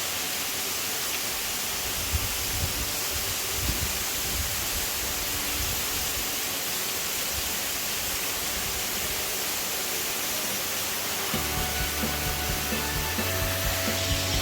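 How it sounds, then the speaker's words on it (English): Eleniru waterfall at Kudremukh, water dropping roughly 20 to 25 feet, gives a steady broadband roar that runs continuously throughout, with a low rumble thickening near the end. "It's a nice waterfall."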